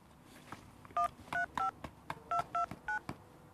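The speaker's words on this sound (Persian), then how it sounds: "پس بیایم بهش زنگ بزنیم" A phone keypad tapped out a number: a quick run of about eight sharp dial tones, each a short beep, with faint background noise between them.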